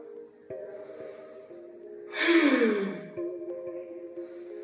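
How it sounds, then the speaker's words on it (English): One deep breath taken during a yoga session, a soft rushing exhale rising and fading over about a second, heard over a faint steady background tone. "One last deep breath."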